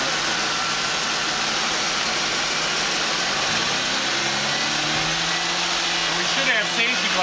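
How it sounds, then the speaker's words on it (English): An engine hums at a steady, loud idle, then its pitch rises in a smooth sweep as revs climb, with a constant high whine throughout and brief talk near the end. "I'll bring the engine RPM up"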